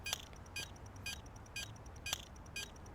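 Faint, regular metallic clicks of a bomb being defused repeat about twice per second over a low steady hum, in the video game Zero Hour.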